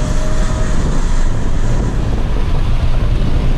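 Wind rushes through an open window of a 2019 Volkswagen Polo 200 TSI as it drives along, a loud, constant low roar blending with road noise inside the cabin, no voices.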